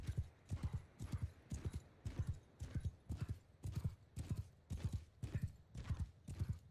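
Horse hooves gallop in the video game Bannerlord, a loud, evenly paced clip-clop of close, repeated thudding strides throughout.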